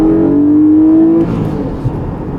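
A Porsche 718 Cayman GTS with its 4-litre naturally aspirated flat-six revs loudly up close, holding a steady high engine note for about a second before dropping back to a rougher, lower burble.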